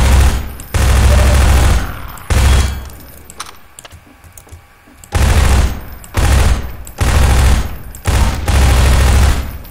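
SMG fire in Half-Life comes in loud, rapid automatic bursts, roughly six sustained volleys each lasting about a second, separated by short gaps and one longer quieter stretch.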